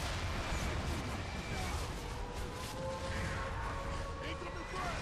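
A frag grenade explodes amid the constant rumble of combat in Gears of War Judgment, a muffled blast under steady battle noise and voices.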